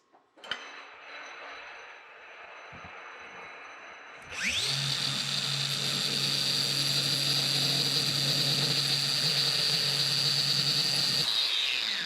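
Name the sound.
angle grinder smoothing sides of wooden bandsaw wheels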